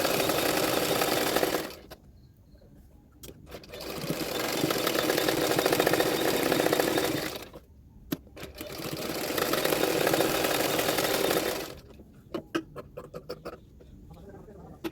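A sewing machine stitches the belt of a boat-neck blouse in long steady runs, whirring loudly for several seconds at a time with short pauses and clicks between bursts.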